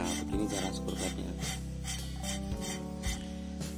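An engine valve is lapped by hand against its seat, a continuous gritty rasping and rubbing that goes back and forth steadily, close and fairly loud, over a low steady hum.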